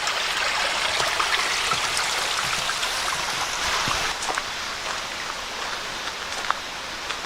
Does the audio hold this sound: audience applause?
no